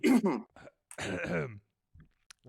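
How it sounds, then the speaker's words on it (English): A person coughs and clears their throat in a few short, close bursts, separated by brief silences. "literally coughing on something"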